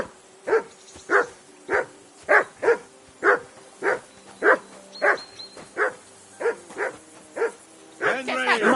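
Dog in a fifteenth-century Bohemian village in Kingdom Come: Deliverance II barks repeatedly at a steady rhythm, about a dozen sharp barks close by, with voices talking toward the end.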